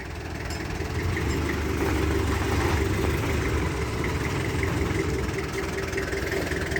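A car engine runs at a steady idle-like hum with a low rumble, swelling a little and then holding, close and continuous, with no speech.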